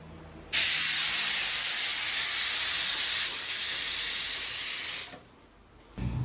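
Steam bursts from a pressure cooker in a single loud, sustained hissing whistle lasting several seconds before cutting off abruptly, with quieter room sound after and no voices.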